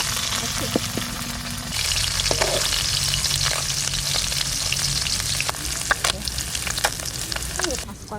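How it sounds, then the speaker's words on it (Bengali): Small puti fish frying in a pan over a lit stove, a steady close sizzle with intermittent clatter of stirring and turning. "মাছটা ভাজা হয়ে গেছে"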